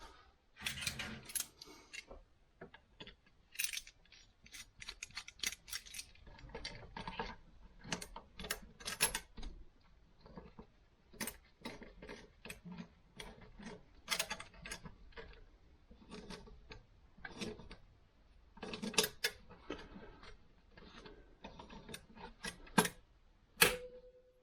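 A differential from a 02M/02Q gearbox is clamped in place, producing scattered sharp metallic clicks, taps and small clanks at irregular intervals, close and fairly quiet.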